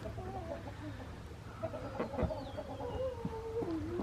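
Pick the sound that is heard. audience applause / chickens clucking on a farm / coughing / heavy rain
chickens clucking on a farm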